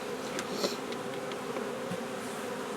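Honey bees swarm around a beehive, their steady buzzing drone filling the air at close range and holding continuously without a pause.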